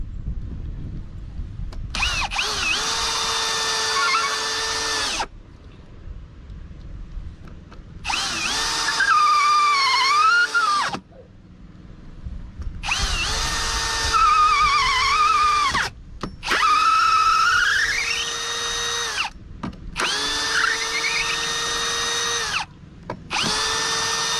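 A two-speed Parkside cordless drill-driver from Lidl, its clutch at the highest setting, drives screws in five separate close, loud whirring bursts; the motor pitch rises and dips as each screw seats, with short pauses between runs.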